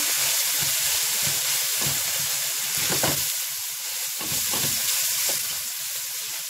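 Ground spices such as cardamom and cinnamon sizzle in a hot pan while being stirred for a pasta dish. A steady loud hiss runs under intermittent scraping strokes.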